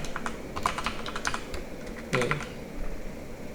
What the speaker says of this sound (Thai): เราสามารถที่จะพิมพ์แบบนี้ได้เลยนะครับ